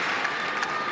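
Crowd applauding in a packed basketball arena at a women's college game, a continuous close wash of clapping with a couple of slightly louder bursts.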